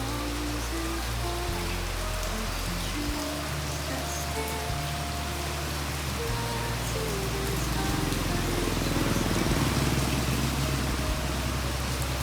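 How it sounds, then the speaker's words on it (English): Steady rain pours down in a dense, even hiss on a street in Bạc Liêu, Vietnam, with a low hum of passing traffic underneath throughout. "Another round of rain coming to Bạc Liêu."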